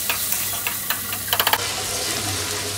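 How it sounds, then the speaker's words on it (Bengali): Meat and potatoes stirred and fried together in a pan for a Bengali chicken curry, with soft sizzling under a run of light scraping clicks that bunch into a quick cluster before settling into steady frying. "এখন ভালো মতো আমি নেড়ে চেড়ে ভালো মতো কষাই নেব।"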